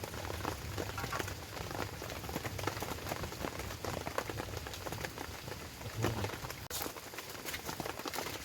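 Steady rain patters on a surface during overnight camping, a dense continuous hiss of drops with a few louder splashes, no voices.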